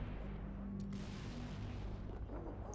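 A frag grenade goes off in Halo: Reach, giving a heavy, rumbling blast that stays loud and dense throughout, with thick low-end booming from the game's combat.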